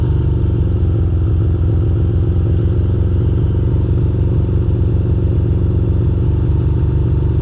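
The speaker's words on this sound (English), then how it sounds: "me revving the bike" A Ducati motorcycle engine revs steadily on a rainy, foggy city ride, a loud, close, continuous low mechanical drone with a rapid pulsing texture and no voices over it.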